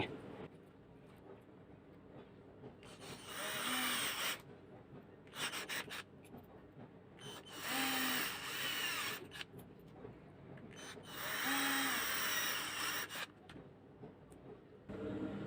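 A power drill making holes while a 12V LiFePO4 battery pack is built, heard as three separate loud drilling bursts with quieter rubbing and handling between them, close to the listener.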